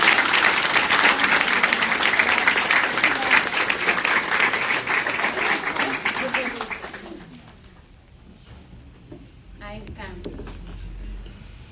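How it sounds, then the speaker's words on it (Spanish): An audience at a quantum-themed gathering in Colonia del Sacramento, Uruguay, breaks into loud, sustained applause for about seven seconds, then it fades as a voice resumes speaking. "Un aplauso para"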